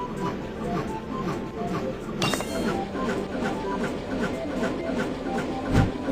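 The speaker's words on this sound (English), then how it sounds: "The train is moving fast." A cartoon train moving fast makes a steady rhythmic clacking with a hissing wash over it, continuous and fairly loud throughout.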